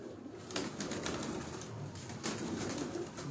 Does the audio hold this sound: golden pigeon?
yes